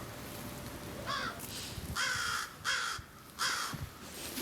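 Crows caw repeatedly, four harsh rasping calls in uneven sequence, fairly close and clear above a low background hum, with no talk.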